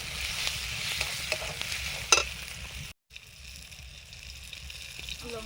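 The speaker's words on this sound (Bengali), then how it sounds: "লঙ্কা গুঁড়ো, জল দিয়ে মশলাটা কষিয়ে নেব।" Masala of turmeric and chili powder with water fries in a pan during an outdoor family picnic cookout, a steady close sizzle broken by stirring scrapes and a brief silence midway.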